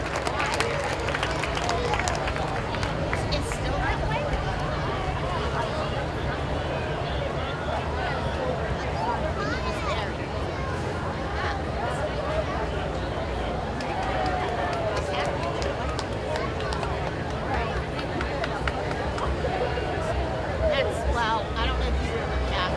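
Parade crowd at a 2017 Independence Day parade in Zelienople applauds passing Jeeps, steady scattered clapping and crowd murmur running throughout, with street noise beneath.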